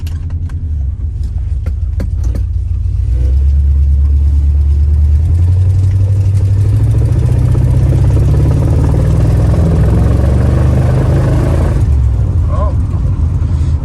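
A 1965 Dodge Monaco with a 383 V8 cranks and catches, then settles into a loud, steady, deep rumble that rises slightly in pitch as it runs and eases back near the end.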